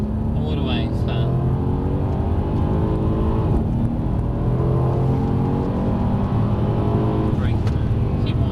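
Mercedes-AMG car engine held at full throttle on the Brooklands race track, a loud, steady drone with rising harmonics that fills the clip, while a driving instructor talks over it.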